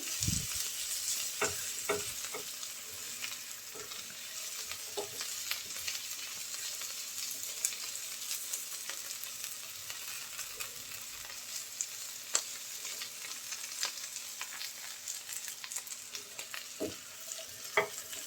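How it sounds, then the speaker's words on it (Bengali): Flat beans frying in oil, a continuous soft sizzle close by with irregular clacks and scrapes of a spoon stirring them, no voices present. "অল্প আছে নেড়ে চেড়ে আমি সুন্দর করে শিমটা ভেজে নেবো"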